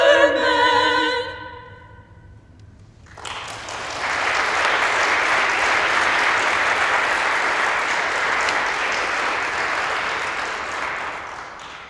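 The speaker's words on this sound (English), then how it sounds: "Let's give them another round of applause." An audience bursts into sustained, steady applause after a sung hymn performed by a group of women, the clapping rising quickly and holding loud and even for several seconds as the last sung notes fade.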